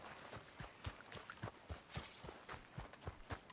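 Horse hooves clip-clop in a steady walking rhythm in Red Dead Redemption, close and moderately loud with no talk over them.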